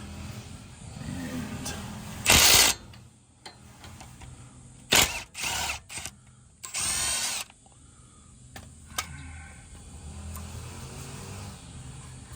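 A ratchet with a 10mm socket loosens bolts during Honda S2000 subframe removal, giving several short bursts of clicking close by, separated by quieter workshop pauses with some low background noise.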